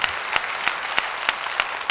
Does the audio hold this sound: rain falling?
no